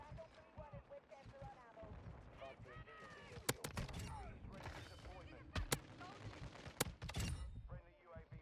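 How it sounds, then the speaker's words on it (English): Shotgun loaded with fire rounds blasting in Modern Warfare 2 gameplay, several sharp loud reports spread irregularly amid dense game noise and talk. "Fire rounds on a shotgun."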